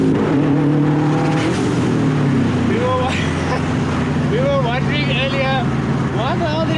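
A Subaru WRX STI being driven hard gives a loud, continuous engine drone with rising and falling revs as it accelerates, heard from inside the car under people talking.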